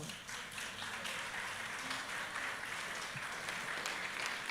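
Church audience applause at a cell group festival, a faint, even wash of clapping that continues unbroken throughout.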